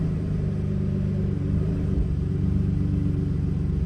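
A 2009 Dodge Nitro engine idles steadily as the transmission is shifted into drive, a continuous close low rumble with a slight change in tone midway and no talking.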